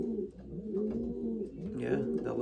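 Racing pigeons in a loft cooing in soft, overlapping throaty phrases, moderately close, with a low background hum and a brief flutter near the end.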